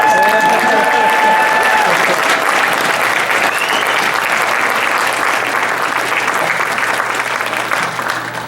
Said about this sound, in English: Let's bring Claire back for another round of applause.